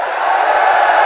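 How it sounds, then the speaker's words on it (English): A crowd of villagers roars once more in a horror story, a short, loud, continuous mass of voices swelling slightly toward the end. "a member shouted, and the crowd roared once more."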